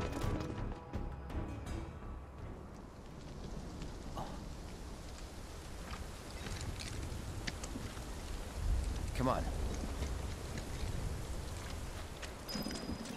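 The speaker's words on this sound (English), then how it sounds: "They put the rain on for extra dramatic effect" Steady rain hisses throughout a scene in the video game Final Fantasy 7 Rebirth, with low rumbling and scattered louder splashes, while a voice speaks briefly over it.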